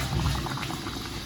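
A pot of vegetables with okra bubbling at a boil, a short burst of low, continuous burbling close by, with no talk.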